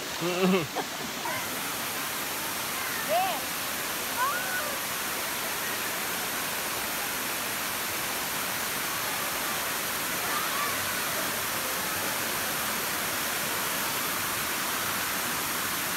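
Steady broadband rushing of a flowing river near Engkanto Falls, Camarines Sur, fills the whole clip, continuous and fairly close, with a brief voice and splash near the start.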